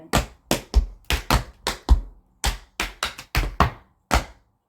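A steady, lively run of a dozen or more crisp tap-shoe strikes on a wooden floor, maxi forward steps, close up, with a short pause midway before the rhythm resumes.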